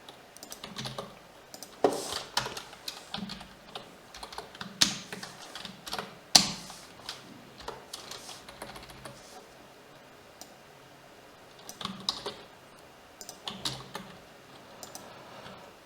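Keys clatter on a computer keyboard as HTML list code is typed, in irregular bursts of close, crisp clicks with short pauses between runs and no voices.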